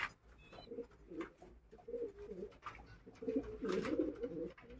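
A breeding pair of short-tailed racing pigeons coo softly and repeatedly close by, in low, rolling phrases that swell toward the end, with no voices over them.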